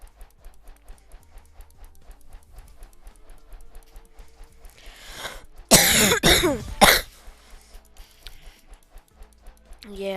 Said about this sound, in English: still hate my cough